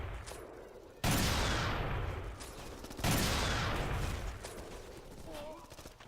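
Bursts of Uzi fire in the shooter game Black, two loud sustained volleys each starting abruptly and trailing off, with a quieter background between them.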